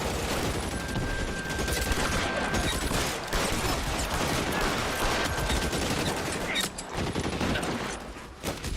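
Gunfire in the video game L.A. Noire, a loud, sustained fusillade of overlapping shots from several guns, continuous and close for most of the stretch with a brief lull before firing resumes.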